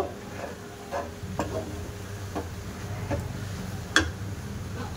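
Flour being stirred into dough in a pan while making taler pitha, a Bengali sweet: soft scraping with faint sizzling, punctuated by sharp taps of a spoon against the pan at irregular intervals.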